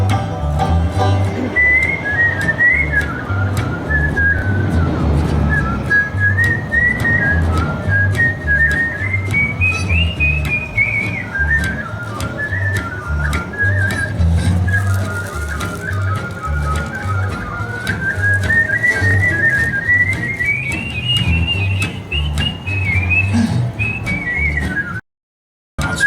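A person whistles a long, wavering melody imitating a train whistle, sliding up and down, over a steady bouncing boogie backing during a live hillbilly band show at Knott's.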